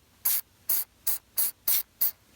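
Six quick bursts of a trigger spray bottle misting gun cleaner onto a clean cleaning patch for a KWA gas blowback airsoft rifle, evenly spaced hissy spritzes, close and fairly loud, with no talking.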